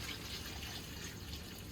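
Water runs into a pot of smoked turkey necks on a stove, a soft continuous trickling pour, faint and steady, with no voices over it.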